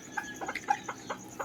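Chickens cluck in a scratch pen built for conditioning the birds: a soft, steady series of short, separate clucks about every few tenths of a second, close by, with no talking.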